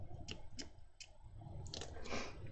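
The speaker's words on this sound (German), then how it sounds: "Gnadenlos spritze ich hier einfach auf meine Wasserfarbe drauf." A spray bottle spritzing liquid onto watercolour paint, giving several short, close hissing bursts at uneven intervals over a quiet background.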